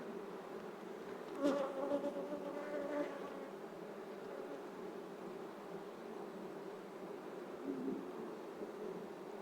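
Honey bees buzz inside an open hive in a thriving Northern Michigan apiary. A dense, continuous drone swells briefly as a few louder bees pass close by, with no voices.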